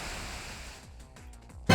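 A Waterfall attack from the Pokémon Y video game gives a whooshing, surf-like rush of water that fades slowly, followed by a sharp loud hit at the end.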